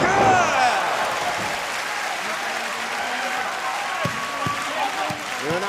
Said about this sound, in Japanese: 場内は大歓声、手拍子で後押し